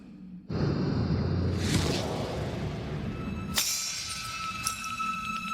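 Anime Bleach sound effect of Kyoka Suigetsu shattering: a sudden loud crash bursts in after a quiet start, sustains as a bright glassy breaking wash, then a second sharp crack brings ringing tinkling fragments.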